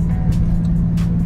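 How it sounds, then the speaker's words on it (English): A Nissan 350Z engine idles nearby with a loud, lumpy, uneven low rumble from a misfire, its rough pulsing beat running steadily throughout. "So it definitely sounds like it's misfiring"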